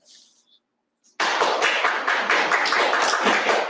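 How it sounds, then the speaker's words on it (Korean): Audience applause at an academic oral presentation session on wild-simulated ginseng research, a dense burst of many hands clapping that starts suddenly after a short quiet pause and continues steadily and loudly to the end. "큰 박수로 가주시기 바랍니다."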